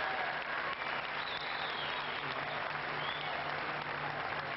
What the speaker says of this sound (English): the fans here at Kooyong will give him a warm round of applause